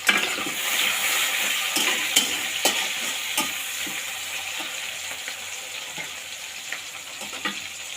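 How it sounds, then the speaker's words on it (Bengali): Onions and chilies fry in hot oil for a meat curry, giving a steady close sizzle and hiss broken by frequent scraping stirs of a spatula against the pan, with no talking. "পেঁয়াজ মরিচটা হালকা একটু ভেজে নেব"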